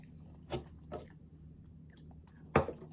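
An almond chocolate croissant is bitten into in three quiet, close crunchy bites spaced apart, with soft chewing in between.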